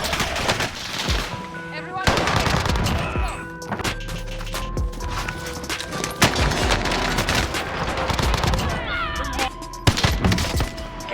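Gunfire from a heavy-damage gun in Warzone gameplay, with dense rapid bursts and loud cracks running across the whole stretch over a busy game soundscape.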